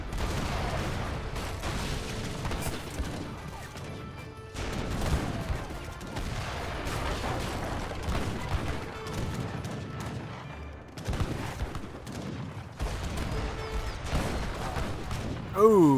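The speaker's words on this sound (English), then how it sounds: "Bombards here, very good." Bombard cannons firing in an Age of Empires 3 match, a dense barrage of booming shots and clattering battle noise layered over game music, loud and continuous with a brief pause near the middle.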